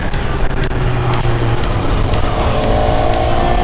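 A BMW S1000R motorcycle accelerates with a light, gentle throttle, its engine a steady, loud droning roar with a rising tone and rushing wind throughout.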